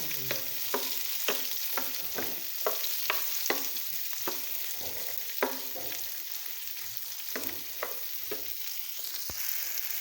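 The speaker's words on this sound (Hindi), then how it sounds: "तो अब हम इसे 1 से 2 मिनट के लिए फ्राई करेंगे।" Thick-cut vegetable slices, including chopped capsicum, stir-fried in a pan for chicken manchurian, with repeated scraping and stirring clatter over a steady close sizzle and no talking.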